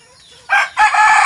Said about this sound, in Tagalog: magpakain muna po ng mga manok namin at baboy